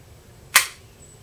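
A single sharp dry-fire click from the trigger of an HK P30L pistol in single action, crisp and close, standing alone against quiet background.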